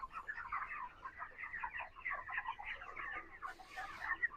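Broiler chickens in a poultry farm shed cluck and chatter continuously, a dense overlapping flock murmur at moderate level with no voices.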